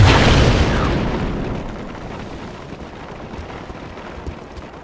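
Grenade blast in the Star Wars Republic Commando shooter: one loud, booming explosion right at the start that slowly rolls off into a long, fading rumble with scattered faint crackles toward the end.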